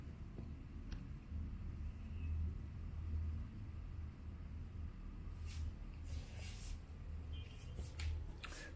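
Saigon city street traffic rumbles from far below a high window, a continuous low drone with occasional brighter hiss and whoosh of passing vehicles.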